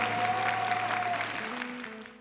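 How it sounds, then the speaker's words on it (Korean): Audience applause at a military unit's singing contest, steady dense clapping with a sustained tone underneath, tapering slightly toward the end. "박수 부탁드리겠습니다"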